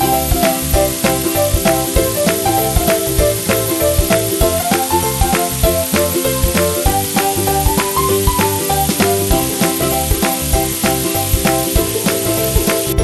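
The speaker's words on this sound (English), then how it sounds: "Stir fry dried shrimps with chopped garlic until aromatic." Dried shrimps and chopped garlic are stir-fried in a hot pan. They sizzle loudly and steadily throughout, with a rhythmic background music track playing over the frying and no talking.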